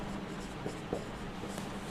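A teacher writes on a classroom board, making faint, soft scratches and taps over a hum of room noise, with no voices during the stretch.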